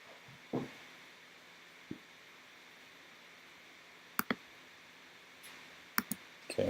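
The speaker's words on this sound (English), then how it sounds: "Okay, so I'm going to click save." Sparse mouse clicks on a computer in a quiet room, a few isolated sharp ticks spread apart, then a quick cluster of clicks near the end.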